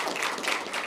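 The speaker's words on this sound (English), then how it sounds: "Please join us in giving them a well-deserved round of applause again" Sustained applause fills a school board meeting honoring board members during School Board Recognition Month, a steady wash of many hands clapping at moderate distance with no break.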